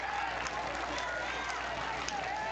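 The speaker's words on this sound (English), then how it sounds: "Extra point is up, and it is good. Good. Got those rolling again. Crowd celebrates that." High school football crowd cheering after a successful extra point, a steady broad roar of voices with a commentator talking over it.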